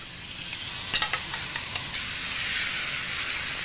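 Whole chicken frying in a pan with spices, a steady loud sizzle and hiss with a few sharp pops and crackles early on as it settles into the hot oil, close and without talk.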